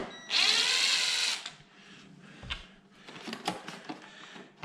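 Power tool used during a Kenmore ice maker replacement whirs loudly for about a second in one high, buzzing burst, followed by quieter clicks, rattles and handling noises nearby.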